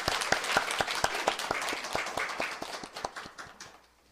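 A church congregation claps together in praise during a worship service, a lively, rhythmic run of applause with sharp, evenly spaced beats that gradually thins and fades over a few seconds.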